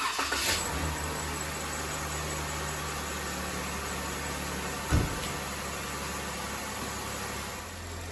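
A Jeep Wrangler JK's Pentastar V6 fires up in a garage after a thermostat replacement, then settles into a steady, moderate idle with a single thump midway and a faint hiss beneath.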